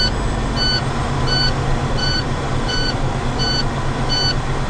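A short electronic timer beep repeats steadily, about every seven-tenths of a second, over a truck's constant low engine rumble during an air brake pressure build-up test.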